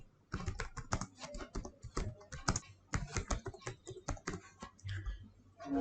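Rapid typing on a computer keyboard, steady clusters of close, crisp key clicks continuing throughout with brief pauses between bursts.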